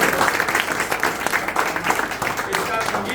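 A theatre audience claps after a Hindi stage play, giving a steady, dense patter of many hands with talk running over it.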